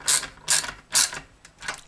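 Ratcheting clicks from tightening a tuner nut on a Peavey Grind NTB-5 five-string bass, three quick bursts of sharp clicking at an even pace followed by two softer ones, close and alone.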